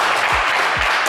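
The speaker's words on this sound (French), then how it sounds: "on peut l'applaudir" Studio audience of a game show applauding a contestant, a dense, loud, continuous wash of clapping from many hands.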